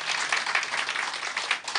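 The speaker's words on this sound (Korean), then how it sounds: "우리 뜨거운 박수로 환영하겠습니다" A church congregation applauds warmly to welcome first-time visitors at a Sunday worship service, a dense, steady wash of many hands clapping together throughout, moderately loud with no talking.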